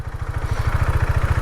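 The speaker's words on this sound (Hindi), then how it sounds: "बाइक धीरे धीरे चलाई" A Husqvarna motorcycle engine thuds in a rapid, even low-pitched pulse while the bike rolls slowly, loud and close with no voices over it.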